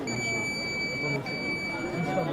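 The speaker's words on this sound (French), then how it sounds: "Et ça bip." A steady high-pitched electronic beep tone sounds continuously under a low murmur of voices and room noise.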